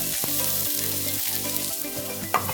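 Onion frying in hot lard or oil for traditional Mexican chiles en nogada, a steady close sizzle with several soft stirring scrapes and a brief louder clatter near the end, no talking.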